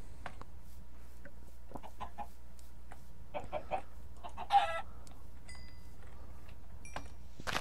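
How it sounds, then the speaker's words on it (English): Chickens in the video game Minecraft give scattered clucks and squawks at moderate distance over a quiet hum, with one louder cluck in the middle and sparse game sounds between. "I hear chickens."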